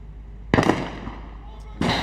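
Sniper rifle shots fired at a target during a SWAT competition in the UAE, two sharp loud cracks about a second apart, each followed by a short fading tail outdoors.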